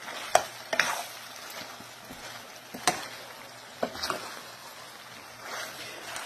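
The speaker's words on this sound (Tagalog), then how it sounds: "i-coat na natin siya para pipirito niya sa sariling mantika" Pork ribs fry in their own rendered fat for pork binagoongan, a steady soft sizzle broken by a few sharp clacks of a utensil stirring and scraping the pan, close and fairly quiet.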